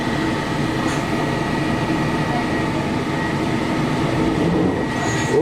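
An SJ X2000 high-speed tilting train leaving København H makes a steady, close, even rumble throughout, with faint squeals now and then.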